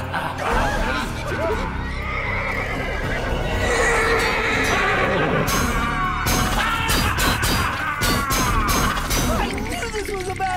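A cartoon horse whinnies loudly and repeatedly, joined by clattering hooves and crashing bangs in a haunted Scooby-Doo scene, with brief voices mixed in.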